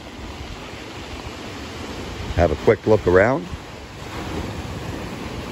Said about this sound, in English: I do worry about getting soaked by the waves